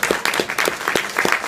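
A crowd applauding for the Stone Pony, a short, brisk stretch of clapping with a few louder distinct claps standing out near the front, brief and fairly close.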